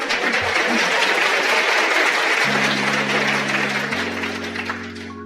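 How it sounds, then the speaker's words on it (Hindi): An assembly audience claps at a motivational talk, a broad steady patter of many hands that fades gradually toward the end while a low sustained tone enters underneath. "आपने ताली बजाई"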